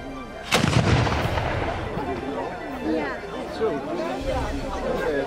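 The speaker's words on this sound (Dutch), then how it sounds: "Kapitein, komt er nog een schot?" A ceremonial cannon shot fired at a Dutch garrison days event booms out loud and close, one sharp blast with a rumbling tail, followed by crowd chatter and a speaking voice.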